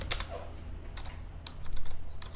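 Computer keyboard keys click in scattered bursts and short runs as an address is typed. The typing is close and moderately loud over a low background hum, with no talk.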